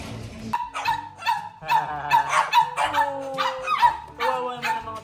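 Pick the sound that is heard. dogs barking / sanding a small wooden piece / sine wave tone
dogs barking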